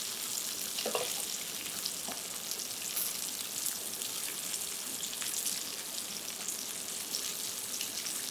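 Turnips fry skin-side down in a pan over medium heat, giving a steady, fairly soft crackling sizzle throughout, with a couple of faint knocks early on and no voices.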